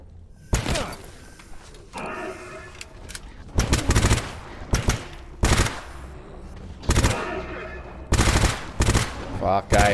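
Gunfire from the video game STALKER while fighting snorks: repeated loud bursts of automatic fire in sharp clusters across the clip, with thuds and impacts between them.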